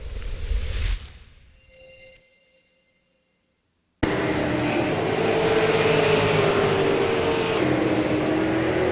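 Race cars from an esports racing game replay at Concord Speedway: a brief engine whine with sharp harmonics fades to near silence, then a loud, steady roar of several engines running together fills the rest.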